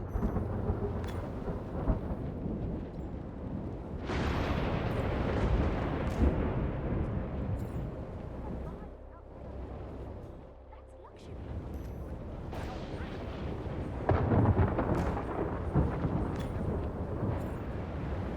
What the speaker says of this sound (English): There's a storm rolling on the end of the island.